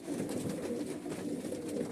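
Pigeons in a Sivas loft coo steadily and close by, a continuous low murmur of several birds with no talk over it.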